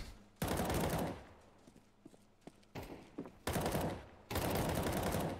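Counter-Strike 2 gunfire comes in several loud, sustained automatic bursts separated by quieter gaps with scattered single shots and thuds.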